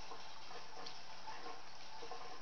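A tap runs steadily in a sink while a basketball is washed, a faint, even hiss of flowing water with no voices.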